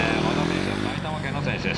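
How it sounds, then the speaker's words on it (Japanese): A Yamaha WR450F motorcycle runs a motogymkhana course, its engine a steady drone throughout and overlaid by a commentator's continuous talk. "WR450F で走っております。"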